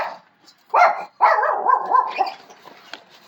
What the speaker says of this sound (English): as soon as he sees the squirrels, he's like, yeah, I can bark